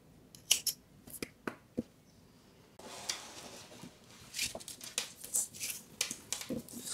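Scissors snip through a knitted yarn tail in a series of sharp, close clicks, first spaced apart and then in quicker bursts.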